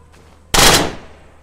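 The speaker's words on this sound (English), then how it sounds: "Yeah, it is a light machine gun." A light machine gun in the zombie survival game State of Decay fires one loud, close, abrupt burst, and its crack fades into a short tail within about a second.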